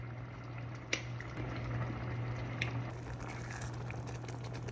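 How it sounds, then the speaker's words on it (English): Chili made with veggie broth simmers on low in a pot, giving a steady, faint bubbling hiss with occasional soft pops over a low hum. "Let it simmer on low."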